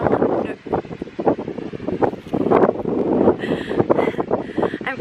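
Strong wind buffets the microphone outdoors in Matera, Italy, in loud irregular gusts and rumbling bursts that last throughout, with no talking.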